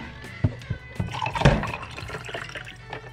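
Water splashing and gurgling as a water bottle is filled from a tap, a close, bubbly rush with a few sharp knocks and drips, steady throughout the short stretch without talk.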